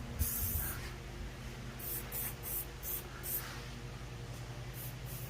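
Spray paint hissing from an aerosol can onto a jetski, in a steady continuous spray broken by several short separate bursts, close and fairly quiet over a low background hum.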